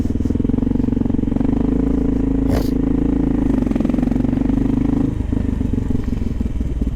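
A Kawasaki KLR650 motorcycle engine idles steadily and close by in freezing Arctic-blast weather in New York City, a constant low thrum with one brief clattering knock partway through before the tone drops slightly near the end.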